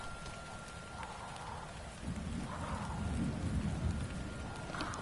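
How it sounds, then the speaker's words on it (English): Steady rainfall in the video game Dreams, a dense continuous hiss with low rumbling swells, moderately quiet and heard without talk. "I can turn the rain on and off."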